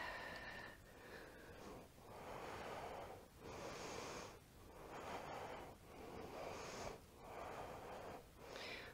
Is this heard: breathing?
yes